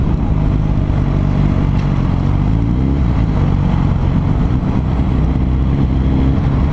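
A Bandit 650cc motorcycle engine drones close and loud while being ridden, holding a steady low growl with a gentle rise in pitch midway and no voices.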